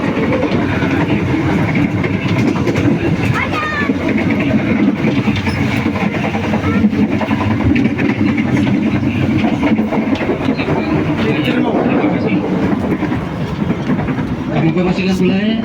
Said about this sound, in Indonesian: sesaat lagi kereta api Airlangga akan segera tiba di stasiun Nakawur Gelis